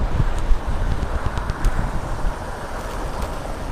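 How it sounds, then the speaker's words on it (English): Gusty wind buffeting the microphone during a night bike commute, a low rumbling roar that swells and dips unevenly, with no voices. "it's very windy"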